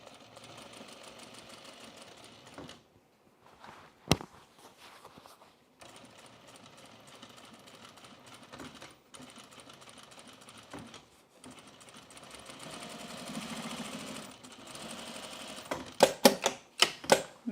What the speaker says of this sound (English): Back stitching the side seam.